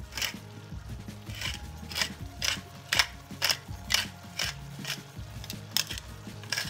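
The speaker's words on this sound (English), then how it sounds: "I also grind my pepper." A pepper grinder cranking peppercorns in a home kitchen while chili is being made, giving about a dozen soft, even, rhythmic crunching twists close by and quiet.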